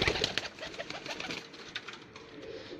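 BMW breed pigeons cooing close by in a loft, a steady run of soft throaty calls with some wing rustling and background noise, no talk.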